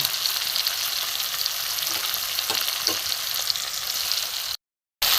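Ginger garlic paste frying in a pan for a Bengali mustard-poppy fish curry, a steady close sizzle with faint stirring scrapes, continuing without pause before cutting to silence near the end.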